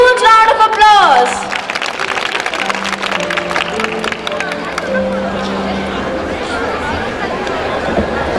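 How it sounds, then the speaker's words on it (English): Applause and crowd chatter fill a silver jubilee school ceremony as the chief guest goes up to the dais, a brief voice at the start and then a steady wash of clapping and murmur. "Please give them a huge round of applause."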